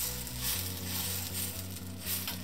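An instant wheat flour and cucumber dosa frying on a hot pan gives a close, steady sizzle with a soft crackling texture and mild surges throughout, with no voices.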